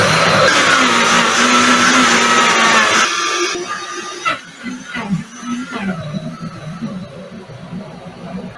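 A countertop blender runs loudly on raw vegan waffle batter made with a little water, then winds down into uneven whirring and bursts of motor sound.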